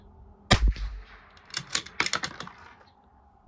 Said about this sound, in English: Second shot.